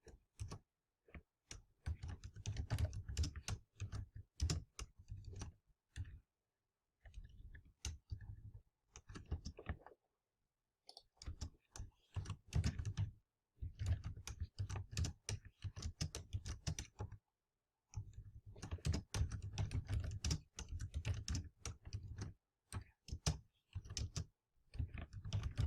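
Quick bursts of close keystrokes on a computer keyboard while Java code is typed, clicky taps in irregular runs broken by short pauses.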